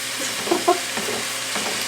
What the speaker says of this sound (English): I'm going to mix the peppers and onions in with it too a little bit here